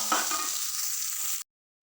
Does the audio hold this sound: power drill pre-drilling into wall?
no